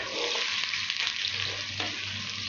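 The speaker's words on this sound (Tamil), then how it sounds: "இப்போ நம்ம வெங்காயம் போட்டுருவோம்" Onions sizzling in hot oil with fenugreek at the start of a fish curry, a steady close hiss and crackle with light stirring scrapes, moderately loud and continuous, no talking.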